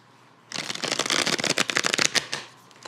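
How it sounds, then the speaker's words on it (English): A deck of tarot cards being shuffled, a dense fluttering riffle of crisp card snaps that starts abruptly, runs for about two seconds and then trails off, close and clear. "Let's get 1 more shuffle."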